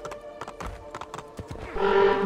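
Hoofbeats of a horse galloping in the video game Assassin's Creed II, a quick steady clip-clop rhythm up close, with a brief whinny and a burst of louder game noise near the end.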